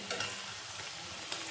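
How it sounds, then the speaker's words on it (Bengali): Sliced potato rounds fry in a pan with a soft, steady hiss of oil, faint and continuous, punctuated by a few light scraping stirs. "একটা আলু ওই চাকচাক করে ভেজে নিচ্ছি"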